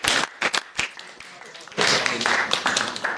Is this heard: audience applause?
yes